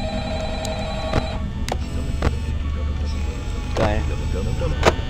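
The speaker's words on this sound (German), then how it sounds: "Das war das Telefon." A telephone rings in the horror game Five Nights at Freddy's, with a few short, sharp bursts standing out over a steady low electrical hum and background noise, while people talk over it.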